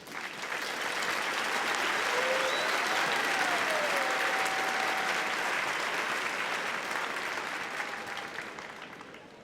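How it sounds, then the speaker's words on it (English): A large commencement audience at a university fall graduation applauds business administration graduates, steady dense clapping sustained for several seconds before slowly tapering off. "offering a round of applause"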